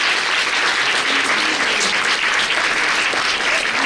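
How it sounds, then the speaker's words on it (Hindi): Audience applause fills a college auditorium at an event honouring a filmmaker, with a dense, steady clapping from a large crowd that holds at an even level throughout, with no voices over it. "उनके लिए जोरदार तालियां"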